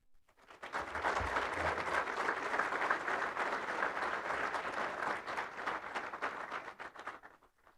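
An audience at a touchdown club banquet in Ashtabula, Ohio, bursts into steady, sustained applause that swells quickly, holds for several seconds, then tapers away, heard alone without talk.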